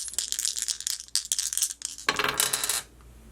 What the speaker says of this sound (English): roll the astro dice to get any last minute information on your psychic gifts